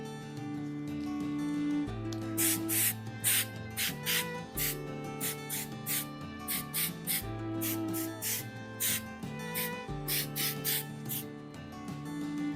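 A spray paint can hisses in a string of short, rhythmic bursts, some quick and some longer, over steady background music.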